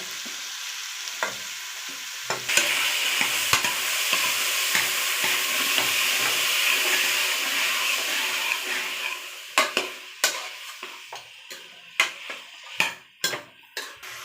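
Tomato, coriander leaves and spices frying in a pan for drumstick potato sambar, a steady loud sizzle with scraping stirs for most of the time, then the hiss fades into a series of distinct spatula taps and clinks.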